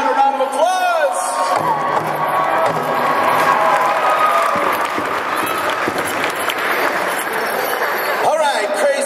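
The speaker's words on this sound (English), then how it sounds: "Ladies and gentlemen, how about a round of applause?" An audience claps and cheers loudly for a young fancy dancer, with whoops and crowd babble running continuously throughout.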